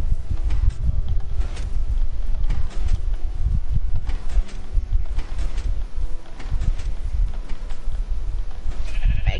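Sheep bleat repeatedly over a dense, rumbling game soundscape, the calls overlapping and fairly close, with no talking.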